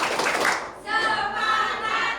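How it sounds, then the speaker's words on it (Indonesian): A group claps together to build energy at an icebreaker before a lesson, first a loud burst of hand claps, a brief dip, then a second sustained round close by with mixed crowd noise. "Oke, tepuk tangan dulu biar semangat."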